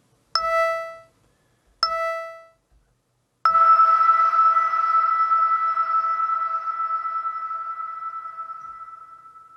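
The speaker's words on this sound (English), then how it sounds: "Synth, let's go bell droplet." Two short bright bell pings, then a longer synthesized bell tone from the Sonar plugin's bell droplet preset rings out and slowly decays, clear and alone.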